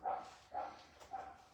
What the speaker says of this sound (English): now they're going to bark at the door.